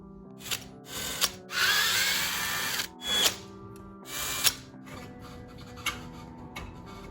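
A power driver with a T25 bit backs screws out of a scooter handlebar assembly, several short whirring bursts separated by pauses, close and clear with no talk.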